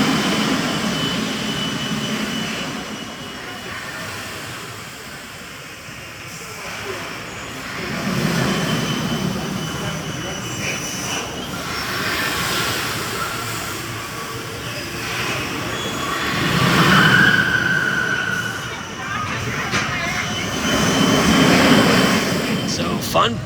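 An S&S Mine Blower roller coaster at Fun Spot Kissimmee, Orlando, rumbling and roaring loudly and continuously as the ride runs, with swells in intensity, wind noise and voices heard over it.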